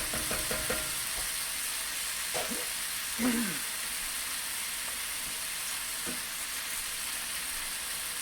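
Cabbage and chicken stir fry with rotisserie chicken sizzles steadily in a hot pan, a constant bright hiss broken by a few scraping stirs of the utensil.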